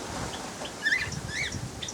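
Birds call inside an aviary at a pheasant-keeping collection, a few short, high chirps scattered over a soft, steady background hiss, fairly close but not loud.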